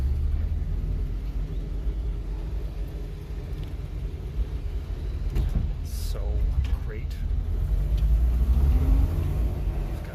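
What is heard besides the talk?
1950s car engine running while driving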